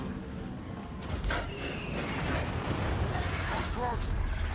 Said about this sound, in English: Go for the bombing run, I guess.